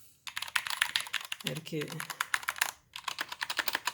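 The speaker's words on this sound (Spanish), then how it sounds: "Lo voy a probar en el escritorio con un teclado." Rapid, steady clicking of typing on a Keychron K2 mechanical keyboard at a desk, close and clear, briefly paused while someone speaks a few words.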